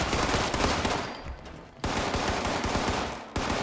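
Gunfire in the game Fallout 76 comes as rapid automatic bursts, loud and dense, cut by a short lull before the shooting resumes and runs to the end, with no talk over it.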